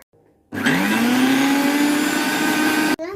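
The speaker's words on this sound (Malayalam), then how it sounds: "2 മിനിറ്റ്സ് മിക്സിയിൽ എടുത്തിട്ട് വരാട്ടോ." A kitchen mixer grinder blends mayonnaise made with sunflower oil. It starts abruptly with a loud, steady whirring motor drone that holds for about two and a half seconds and then cuts off.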